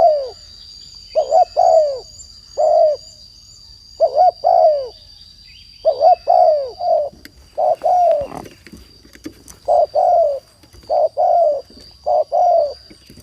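Repeated soft, hollow spotted dove cooing phrases in short bursts at a steady pace, fairly near, with a faint constant high whine behind, in Udon Thani, Thailand.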